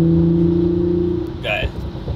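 Engine of the JP Performance Toyota Supra, fitted with a BMW engine, hums steadily under acceleration before the note shifts, heard from inside the car beneath a voice over a brief couple of seconds.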